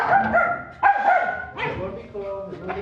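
A friendly female dog socialized with other dogs yips and barks in a few short, close, whimpering bursts, with people talking over them.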